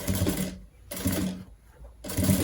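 A sewing machine stitches close along the piping of a crossbody bag, running in three short bursts separated by brief pauses, steady and close.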